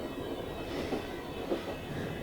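An anime train from Final Fantasy: Unlimited rolls along in a continuous steady rumble with faint rail clatter, moderately loud and unbroken, with no voices.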